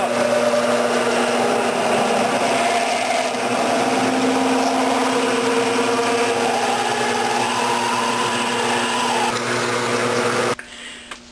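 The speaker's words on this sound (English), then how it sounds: "And then just drill her out." A power drill whines steadily at close range for about ten seconds, grinding continuously through metal on a Fairbanks-Morse 1 1/2 HP Z engine, then stops abruptly.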